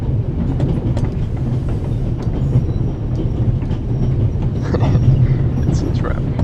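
A train rattles along in The Raven – Legacy adventure game, a loud steady rumble with rhythmic clatter of wheels running continuously, with a voice talking over it.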